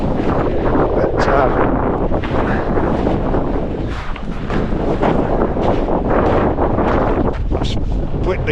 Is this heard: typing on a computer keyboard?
no